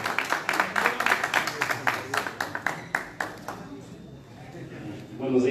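Applause at a civic award ceremony in El Alto honoring the Always Ready football club, a crowd clapping in distinct rhythmic bursts that thin out and fade after about four seconds, leaving a quiet room.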